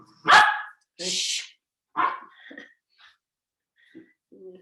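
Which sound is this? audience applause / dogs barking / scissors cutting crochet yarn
dogs barking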